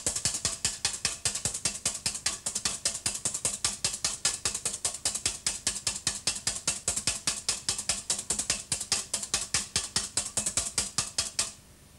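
A whisk beats egg whites in a bowl in a 1966 Austrian television kitchen, a fast, steady run of sharp metallic clicks and taps that keeps an even rhythm for about eleven seconds before stopping, with no talk.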